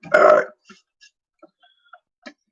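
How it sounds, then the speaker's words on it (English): One loud, short human burp opens, followed by faint scattered ticks and small clicks in a quiet room, with no talk. "You walk in, you just have to burp?"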